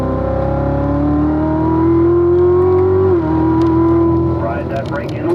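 A race car on a track holds a loud, droning engine note that climbs steadily, dips briefly at a gear change, then resumes under power, close and continuous.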